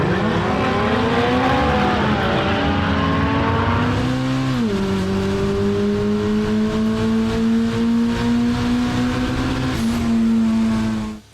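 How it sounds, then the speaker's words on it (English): A twin-engined, twin-turbo Toyota Starlet holds loud, sustained revs at close range, its pitch dipping and climbing as the throttle changes, with no voices over it. "Matt and Nick from Camp Dogs made the trek down from Darwin with their twin-engined,"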